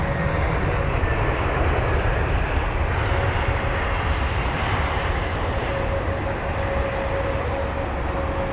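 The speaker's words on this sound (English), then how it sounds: "There's the Lufthansa 320 Neo once again." Lufthansa Airbus A320neo jet engines at London Heathrow give a loud, steady roar that holds evenly for the whole stretch, with no voices over it.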